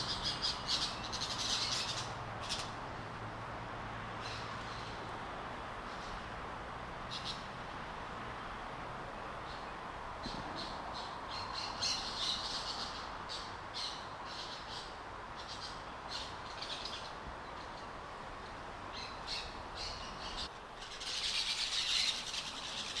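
A noisy flock of orange-chinned parakeets calls directly overhead in the Panama City area, harsh chattering squawks repeating in bursts over steady outdoor background noise.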